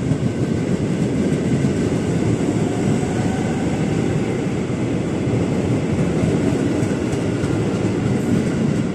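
A commuter train at Manggarai station, a loud continuous rumble of wheels and carriages with a faint high brake whine running through.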